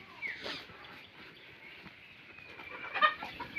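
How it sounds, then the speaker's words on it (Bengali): Chickens on an open-range Sonali (Faomi) poultry farm cluck softly and intermittently, with a few brief chirpy calls near the end, fairly faint against a quiet outdoor background. "এই মুরগিগুলো কিন্তু একটু ভয়ে আছে"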